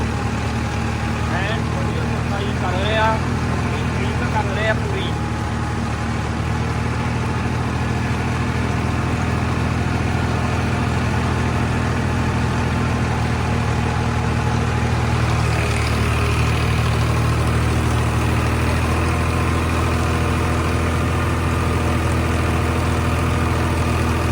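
A tractor engine idles with a steady low rumble throughout, close and constant, with a few brief higher chirps early on.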